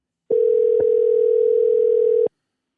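A telephone dial tone sounds as a phone call is placed, a single steady electronic tone of about two seconds with clicks at its start and end.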